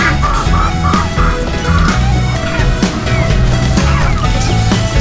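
Chickens being fed on a farm cluck and squawk close by in a busy, overlapping chorus of calls, loud and continuous with repeated sharp notes.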